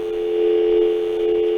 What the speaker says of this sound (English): Oh, we got a call from Dial Tone.